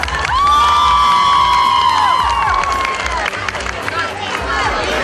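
Crowd at an evening town event in Rovinari cheering, whooping and clapping for child boxing champions called onto the stage, loud and sustained with shouted high voices over applause.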